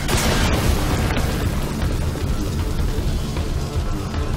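Enemies exploding in the video game Metal Gear Survive, a dense, continuous rumble of booming blasts with a few sharper pops, loud and close throughout.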